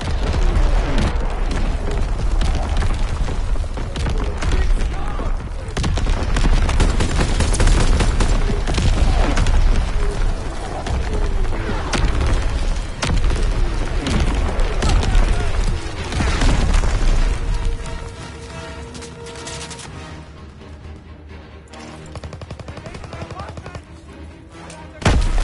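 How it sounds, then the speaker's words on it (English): Incoming enemy artillery fire pounds continuously in a dense, loud barrage of booms and rapid gunfire, easing off near the end, with shouted voices mixed in. "incoming enemy artillery"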